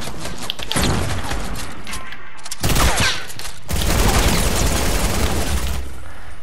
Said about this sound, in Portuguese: estava já a levar tiros aqui deste player atrás